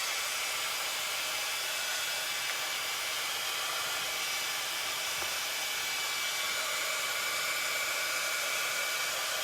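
A hair dryer blows steadily on a small wet patch of paint on a Dollar Tree craft tray, a constant close airy roar that holds level throughout with no talking.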